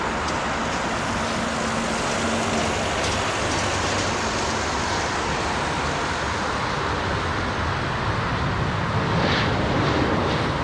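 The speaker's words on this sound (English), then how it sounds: "Very little separation between these jets, man." Jet airliners land on runway 27R at London Heathrow in a loud, continuous broadband roar that swells slightly toward the end, with steady distant rumble and no voices.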